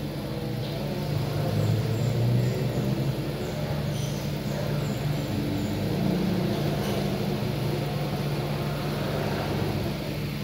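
A Mazda 3 engine idles steadily at normal RPM after about fifteen minutes of running, with a continuous low hum and no speech.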